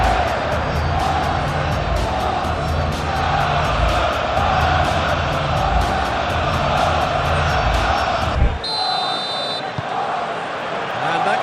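A capacity stadium crowd in an Arsenal vs Everton Premier League football video game simulation roars continuously and loudly, with the crowd noise dropping away sharply shortly before the end.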